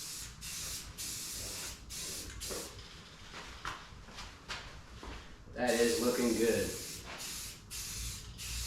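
Spray paint from a nearly empty aerosol can hissing onto a 1995 Chevrolet Silverado OBS pickup, with short repeated bursts followed by a louder, longer spray near the end, while someone talks throughout.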